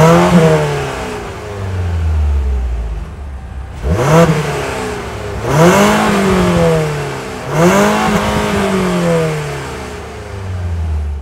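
Mazda CX-90 PHEV 2024 with a 2.5-liter turbo four-cylinder revving hard three times, each blip rising and falling in pitch over a steady idle, close and loud with no talk.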